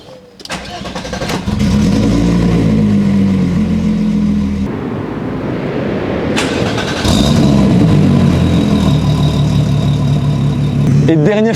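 A Volkswagen Golf VR6 engine cranks briefly, catches and settles into a loud steady idle, then rises in a couple of revs up close. A short pause in the middle is followed by another surge.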